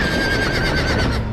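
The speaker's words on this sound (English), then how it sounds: "Horses." A horse whinnies loudly in Telltale's Game of Thrones video game, one brief high wavering neigh over dense game background noise, with no talk.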